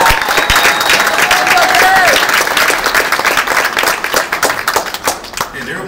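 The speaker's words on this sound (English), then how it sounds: "Now you need to give him a hand of applause" Crowd applauding Dez Bryant, former Oklahoma State All-American and first-round pick, at a holiday homecoming event; steady dense clapping with some cheering that thins toward the end.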